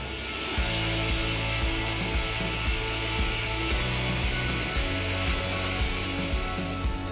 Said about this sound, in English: he's gonna rip it through the optimized rip saw